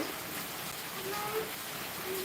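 Heavy rain pours down steadily, a dense, even hiss close at hand that fills the whole stretch without letting up.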